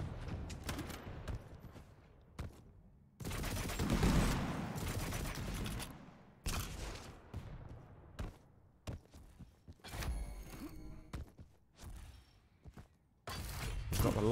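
Rocket launcher fire in a Quake Live duel, several loud bursts with thuds and blasts spread across the stretch, separated by brief quieter gaps.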